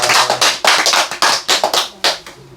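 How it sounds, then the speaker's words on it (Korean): Congregation clapping during a Korean Chuseok worship service, a run of distinct rhythmic hand claps in quick bursts, fairly loud and close, with no talking over them. "하나님께 영광의 박수 올리겠습니다"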